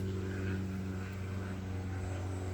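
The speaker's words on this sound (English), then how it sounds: "there's a plane going by over." A plane passes overhead above a home yard and vegetable garden, a steady low engine drone with a broad rushing hiss, fairly constant and moderately distant throughout.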